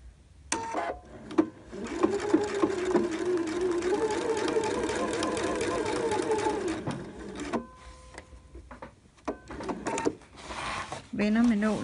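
Domestic sewing machine stitching in a zipper, running in a steady mechanical whir for several seconds, then stopping and starting in short bursts.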